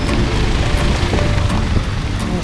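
Rain falls during a road trip, a dense, steady broadband patter heard close and fairly loud, without pause for a couple of seconds.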